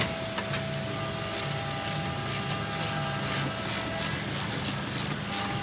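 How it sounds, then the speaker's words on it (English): A hand ratchet wrench turns out 3/4 bolts while rear air-ride shocks go onto a motorcycle in a shop, giving a steady series of quick clicking strokes at moderate level, with no talk. "we're doing it with ratchets"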